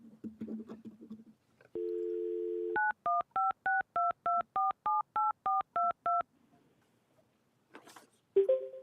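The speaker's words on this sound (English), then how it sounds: "If you can try hanging up and dialing all over again." A telephone keypad dials back into a city council conference call: a steady tone, then a quick run of about twelve DTMF beeps, followed by quiet and a faint automated voice.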